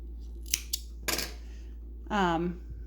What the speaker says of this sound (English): These scissors.